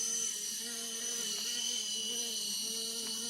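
Steady whining rotor hum with a high buzzing overtone from an RC Era C189 model helicopter hovering while its throttle is raised; close, continuous and fairly even over a few seconds.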